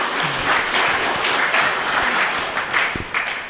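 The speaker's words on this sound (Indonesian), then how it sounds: "Tepuk tangan untuk penanya." A hall audience at a Banser training session applauds steadily for several seconds, a dense wash of many hands clapping together.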